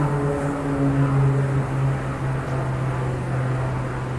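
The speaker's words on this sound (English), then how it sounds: "Wow, that was a low-flying airplane." A low-flying airplane passes overhead near a resort pool in Summerlin, Las Vegas, with a loud, steady droning roar and a hum that holds throughout and swells slightly at its peak.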